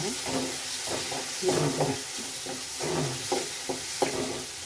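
Ground green masala for an egg curry sizzles in hot oil while a spoon scrapes and stirs it in repeated strokes, a steady close-up frying hiss with rhythmic stirring and no voices.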